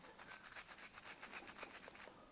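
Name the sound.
scrubbing grease off sewing machine housing with lye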